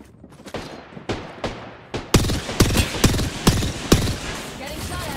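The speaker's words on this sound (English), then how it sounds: "Getting shot at." Gunfire in the shooter game Apex Legends: sharp, close shots crack out in a spaced sequence and then quicken into a dense volley of loud bursts.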